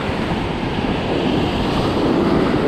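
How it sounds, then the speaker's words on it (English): Strong wind blows steadily at a beach during surf fishing for perch, a loud, dense roar of gusts and surf with no voices. "the wind is definitely coming back up"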